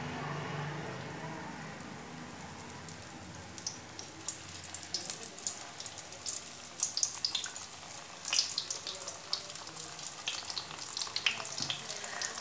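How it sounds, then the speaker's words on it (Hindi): Chicken mini samosas and box patties frying in hot ghee over a low flame: a steady close crackling sizzle that grows busier and denser after the first few seconds, with no talking. "चलिए अब इन्हें फ्राई होने देते हैं"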